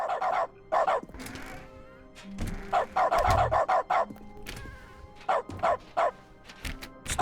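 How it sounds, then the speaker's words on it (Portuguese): A dog barks repeatedly in short yapping bursts, close and loud, in dog mode of The Stanley Parable: Ultra Deluxe video game, with a few whimpering notes between barks. "Ativei o modo do cachorro."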